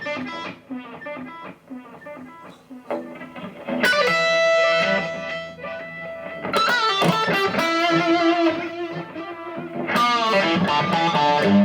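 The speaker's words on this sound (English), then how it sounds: "here's something called reverse." Electric guitar through a Kemper profiler's reverse effect, its notes swelling in backwards with rising attacks, played in loud phrases with brief quieter gaps and no talk.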